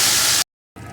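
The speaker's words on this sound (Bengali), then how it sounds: "এই মিষ্টির জারটা ধুয়ে একটু জলও দিয়ে দেবো" Water from a rinsed sweet jar is poured into a pan for a cashew-poppy-seed paneer curry, making a loud rushing hiss. The hiss breaks off abruptly, then resumes after a brief silence.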